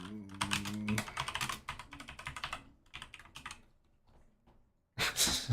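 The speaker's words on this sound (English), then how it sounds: "Where are you typing words at?" Keys clatter on a computer keyboard in quick, uneven bursts, pausing and trailing off before a fresh loud flurry at the end, with a voice briefly sounding at the start.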